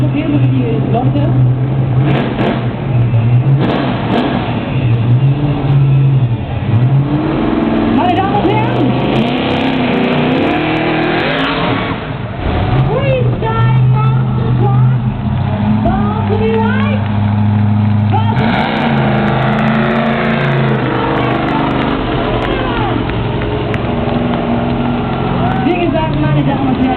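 A 1500 hp monster truck engine rumbles and revs loudly at a freestyle show in Wuppertal, with rising and falling throttle surges close by while an announcer talks over the noise through a PA.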